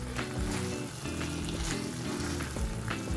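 Hot spicy Bengali chicken sizzles and fries in a pan while being stirred, a continuous close crackling hiss broken by scraping stirs, with no voices.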